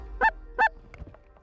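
Two loud, nasal honks from geese sound in quick succession, followed by fainter calls as a flock approaches decoys during a goose hunt in the Aleutian Islands, Alaska.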